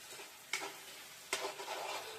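Tomatoes with a little salt cook in oil in a pan, giving a soft continuous sizzle punctuated by two sharper hissing bursts as they are stirred, close and with no speech.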